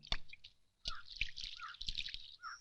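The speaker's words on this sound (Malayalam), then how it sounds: "ആ വെള്ളം അങ്ങോട്ട് കൈ കഴുകട്ടെ" Water drips and splashes in short irregular bursts as someone washes their hands outdoors. High bird chirps run over the drips, and there is no talking.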